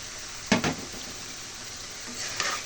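Coconut going into frying shrimp in a pan, with a couple of sharp stirring scrapes and clinks near the start, a later scrape, and a soft steady sizzle underneath.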